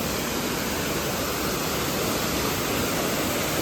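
Waterfall in Meghalaya roaring steadily at close range, a dense unbroken rush of falling water with no pauses or other sounds.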